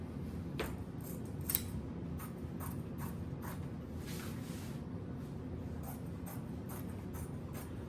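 Scissors cut fabric blocks for a rag tote bag in a series of crisp snips, irregular and moderately close over a quiet room hum, with no talking.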